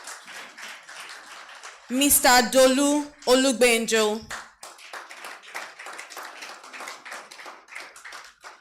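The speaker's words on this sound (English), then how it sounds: "please make them feel welcome as they come up with a round of applause" Scattered clapping from an audience welcoming panel guests at a business television event, light, sparse hand claps running through the whole stretch, briefly covered by a loud announcer's voice in the middle.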